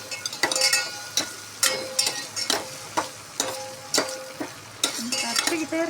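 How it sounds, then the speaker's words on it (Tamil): Tomatoes and onions sautéed in a pan, a soft sizzle under repeated rhythmic scraping and clinking strokes of a spoon against the metal, close and fairly loud. "நல்லா பச்சை வாசனை போட அளவுக்கு வதக்கி விட்டுட்டு"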